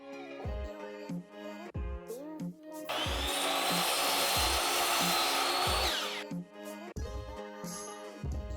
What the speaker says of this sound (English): Set your miter saw to 18 degrees and we're going to cut about 3/4 of an inch off of the end of each board.